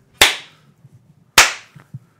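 Two sharp, loud hand claps ring out about a second apart on a count of three, each snapping crisply and decaying quickly, with faint low murmurs between them.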